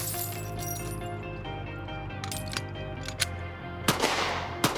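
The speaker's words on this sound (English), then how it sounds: "2 shots from your back. Back up to seated. 2 shots." Gunshots fired at a shooting training drill, a few sharp cracks spread through the clip over a steady humming background, heard at moderate distance with no talk.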